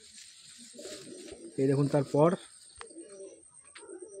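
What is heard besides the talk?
pigeon cooing, Madrasi pigeon held in loft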